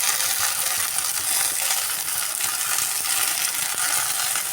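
Okra frying in a pan with a splash of lemon juice, a loud, dense, continuous sizzle that hisses steadily throughout with faint stirring underneath.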